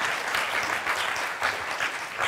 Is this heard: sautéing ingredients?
no